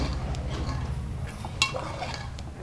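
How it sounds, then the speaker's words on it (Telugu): Tomato pieces being stirred into a curry in a pan, with soft scraping and an occasional metallic clink of a utensil against the pan. Steady low kitchen background noise continues throughout. "టమాటా ముక్కలు వేసేసుకొని బాగా కలిపించుకోవాలా."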